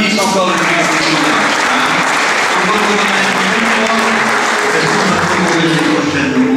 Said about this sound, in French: voudrais qu'on l'applaudisse encore une fois